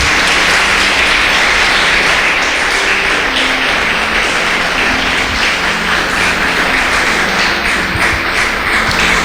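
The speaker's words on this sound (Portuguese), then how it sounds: "dê a maior salva de palmas que você puder à palavra de Deus" A church congregation applauds loudly during a worship service, with dense, continuous clapping that holds steady throughout. A faint tonal hum runs underneath.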